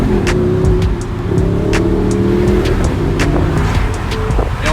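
An Audi R8 driven through the Monaco hairpin with its gearbox in sport mode, a loud close engine drone with sharp, quick gear-change blips and rising revs, heard from inside the car.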